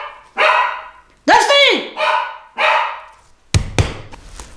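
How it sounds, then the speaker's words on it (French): A pet dog indoors barks in several separate loud bursts close by, a person calling its name and speaking between the barks. "Excusez-moi pour mon chien, il aboie encore."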